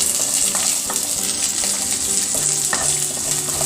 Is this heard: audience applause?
no